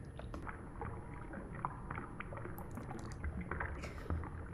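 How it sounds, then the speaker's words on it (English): Water bubbles in a cave, a steady close gurgling wash with scattered small splashes and drips throughout, with no voices. "what I got here was bubbling in a cave"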